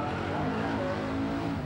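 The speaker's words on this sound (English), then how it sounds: "shredding a bit of tyre on the left-hand side" A burnout car at the Summernats 18 burnout eliminations shredding its left-hand tyre, a constant dense roar of engine and squealing rubber filling the whole stretch, loud and close with no pauses.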